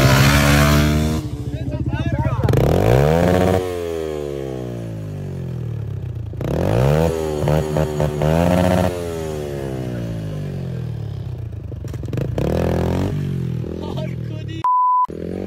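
A motorcycle engine revs up and down repeatedly, rising and falling in pitch, close and loud, with a short electronic beep near the end.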